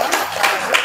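A crowd claps at a Buddhist vihara to welcome a newly installed Buddha statue. The applause is brief and scattered, carrying steady broadband patter, with no talk over it.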